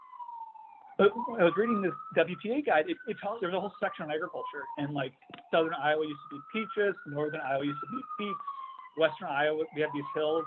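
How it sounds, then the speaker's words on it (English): A police siren wails steadily outside, its pitch rising and falling throughout at moderate distance, heard beneath someone talking continuously in the foreground. "Sorry for the police sirens."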